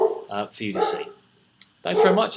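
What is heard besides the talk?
dog barking in the background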